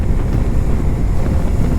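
Steady, loud wind roar buffets a vehicle driving fast on an open highway at around 90, a constant low rumble without any talk.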